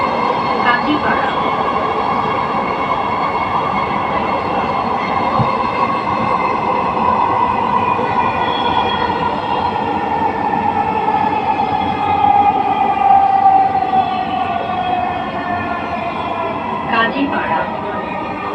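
A metro train runs between stations on the Dhaka line bound for Uttara North, with a loud, steady rumble and rail whine heard from inside the carriage alongside faint announcements.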